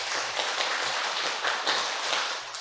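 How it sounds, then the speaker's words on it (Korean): A church congregation at a Sunday afternoon service claps together in a quick run of short, sharp claps, roughly ten in a row, a dense bright patter from many hands with no voices over it. "짧은 박수 10개 시작!"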